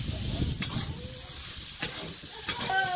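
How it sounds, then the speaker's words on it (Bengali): Potatoes and soybean sizzling and frying in a pan, a steady close crackle with a few sharp stirring clinks, alone. "আলুটা কিছুক্ষণ ভেজে নিলাম, এবার সয়াবিনটা দেবো"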